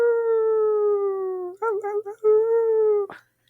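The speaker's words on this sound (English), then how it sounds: "you're going to hear a wolf howl now." A single wolf howls in a long, steady, sustained tone, then wavers briefly before resuming the drawn-out cry, close and clear against silence, ending with a short sharp noise.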